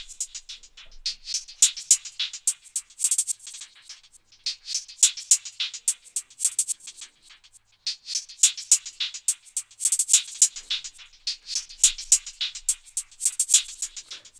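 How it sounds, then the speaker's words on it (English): Triplet hi-hat pattern from an FL Studio trap beat runs busily with a reverb-processed wash, dense bright ticks and rolls blurring together over a steady repeating loop, no voices. "it lets you control the reverb of your hi-hats,"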